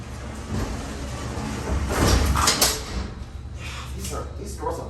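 Heavy doors of a vintage Dover hydraulic freight elevator at Harrington Tower in College Station roll and slide shut with a grinding, rumbling scrape that peaks midway and then settles, near and loud, with a voice talking.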